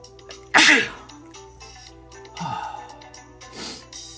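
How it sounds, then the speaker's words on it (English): A single sharp, loud sneeze up close in a card shop, followed by a couple of softer breathy snorts and sniffs in a quiet room. "Why do I sneeze so much in this room?"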